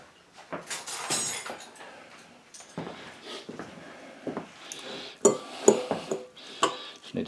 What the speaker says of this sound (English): Now we just need to shred this, so let me grab a couple forks.